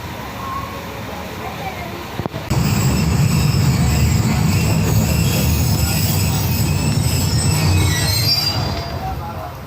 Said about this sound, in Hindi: ये रहीम यार खान अपना जो सा स्टेशन है।